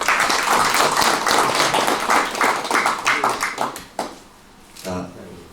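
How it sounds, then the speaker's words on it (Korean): An audience at a peace forum appointment ceremony claps in a dense, steady burst that gradually thins into scattered claps, and a voice cuts in near the end. "박수 부탁드립니다."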